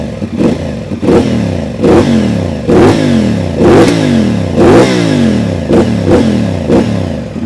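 CFMoto 450SR motorcycle with a crossplane engine revving repeatedly nearby, each loud throttle blip rising and then falling back in a steady rhythm of about nine pulses over a continuous idle.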